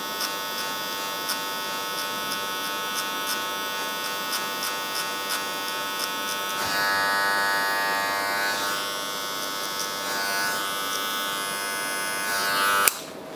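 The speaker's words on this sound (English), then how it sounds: "Open no guard, start low, same angle as clearing and with the trimmer." A hair trimmer with no guard cuts curly hair during a taper haircut, its steady close electric buzz running continuously with shifts in pitch and loudness as the blade moves through the hair, then stopping abruptly near the end.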